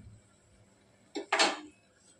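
Fried gulab jamun dropped into a pan of sugar syrup make two short, close clinks and a brief wet splash, set against quiet room tone.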